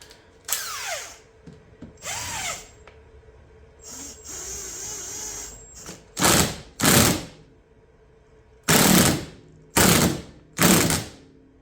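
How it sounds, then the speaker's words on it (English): Power tool bursts tightening a nut on a 2008 Yamaha Drive G29 golf cart, several short whirring runs in a stop-start rhythm, close and loud, with quieter clicks and handling noises between. "So we'll put the washer on, put the nut on, tighten it up."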